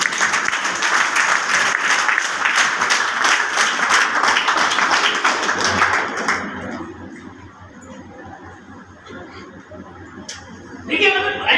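Audience at a Modicare business seminar claps loudly and steadily for about six seconds, then the applause fades to a quieter room with a few scattered claps at the end.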